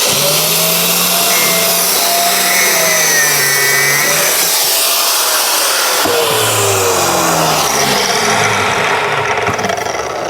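A power tool whines loudly through a test cut into the bulkhead of a Land Rover Defender 90, its pitch dipping and rising as the blade bites, with a brief drop mid-cut and a steady motor drone underneath.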